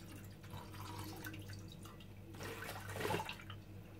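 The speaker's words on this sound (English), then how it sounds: "So I'm gonna pump it now without hiding it from you. So it pumps both on down and up." A manual Biltema galley pump draws water from a bucket, giving soft splashing and trickling with a louder gush of flow near the end, heard close and fairly quiet.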